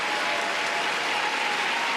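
Steady, loud arena applause from a figure skating crowd at the Grand Prix de France after a free dance, a continuous wash of clapping with no letup.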